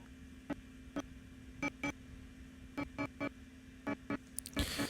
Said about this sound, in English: I have a really bad record player, so it sounds like really grainy.